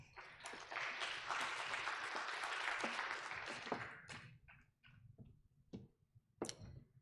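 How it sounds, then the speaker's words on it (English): Lecture audience at a memorial lecture applauding, a sustained wash of clapping that fades after about four seconds into scattered sharp claps and taps. "Another big round of applause to Ms. Ponera."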